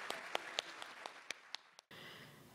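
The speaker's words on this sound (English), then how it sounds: "Please offer our panelists a round of applause." Faint applause for symposium panelists: a thin, distant patter of scattered claps with a few sharper individual hand claps standing out, ending abruptly.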